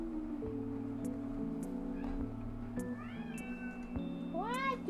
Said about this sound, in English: My drawing is meowing.